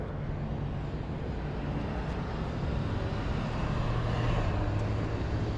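Junkyard Honda Odyssey go-kart engine running steadily, a broad continuous droning roar with a low hum underneath, close and constant throughout with no talking.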